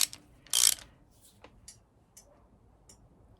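A ratchet snugs down the sump bolts on a CB Performance 2017cc engine build, giving one short burst of clicking followed by a few faint isolated ticks in a quiet workshop.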